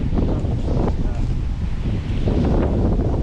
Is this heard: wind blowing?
yes